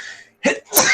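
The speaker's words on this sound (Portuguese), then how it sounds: "São os primeiros espirros da manhã." A single person's sneeze, loud and close, starting with a short sharp intake and ending in a bright, explosive burst, heard alone with no talk.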